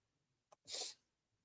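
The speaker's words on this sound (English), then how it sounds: "I better not start having these sneeze attacks" A single sharp sneeze, close and loud, preceded by a quick intake of breath, then quiet.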